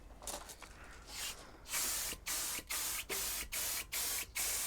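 Thinned paint sprays onto Willys Jeep parts such as seats and the front grille, a soft hiss at first and then a series of about seven loud, even bursts with brief pauses between them.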